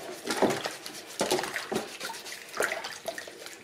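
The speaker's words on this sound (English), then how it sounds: "just wash them out as clean as I can" Dishwasher filter parts scrubbed with a sponge under running water at a sink, giving uneven splashing and wet rubbing bursts that rise and fall close by.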